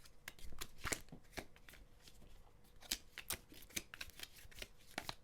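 Playing cards riffled and shuffled repeatedly, a rapid run of crisp flutters and snaps, close and fairly quiet, with no talking.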